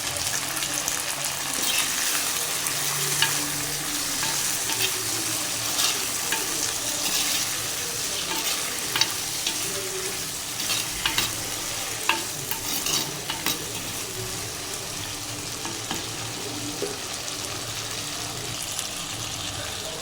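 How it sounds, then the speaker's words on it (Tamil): Eggplant stir-frying in oil for a masala poriyal gives a continuous sizzle broken by frequent scraping and stirring clatters of a spatula against the pan, with no talk. "இப்போ வந்து எண்ணெயில் வதக்குற கத்திரிக்காய்க்கு தூள் உப்பு தான் போடணும்."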